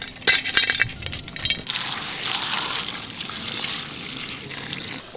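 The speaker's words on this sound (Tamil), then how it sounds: "புளியை ஊற வச்சிடலாம்." Tamarind set to soak in water for a dried-fish gravy, with a few glass clinks at first, then a steady close trickle of water pouring into a vessel.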